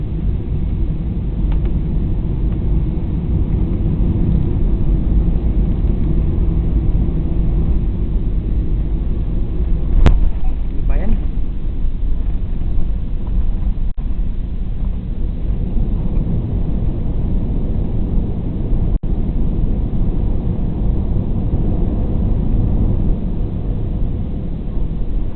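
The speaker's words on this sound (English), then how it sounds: "we have just landed at Puerto Princesa Airport" Airphil Express airliner landing at Puerto Princesa Airport, heard from inside the cabin as a steady, loud low-frequency roar of engines and airflow that holds for the whole stretch, with a couple of brief thumps and rattles.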